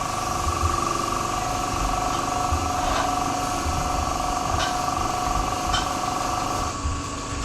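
A wood lathe running at 1440 RPM turns a laburnum and copper inlay piece, giving a steady, loud mechanical whine and hum with a few faint ticks, continuous throughout.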